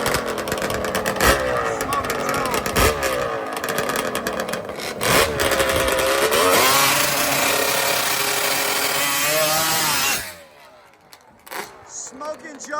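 Two-stroke racing motorcycles, including a Kawasaki H2 750, scream loudly at a drag racing event, their high, rasping engine notes rising and falling. The noise cuts off sharply near the end, leaving quieter crowd sounds.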